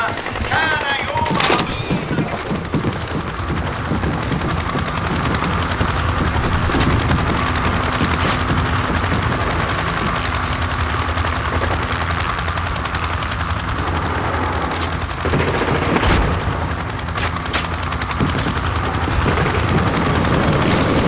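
Gunfire in the Call of Duty 4: Modern Warfare mission Charlie Don't Surf, with sharp shots and bursts scattered over a steady battle rumble of engines and wind, mixed with radio-style voices talking throughout.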